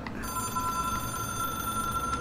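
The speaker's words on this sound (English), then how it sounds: "It is a phone." A telephone rings in the video game Control, a steady electronic bell tone held continuously over a low background hum, fairly close and without talk.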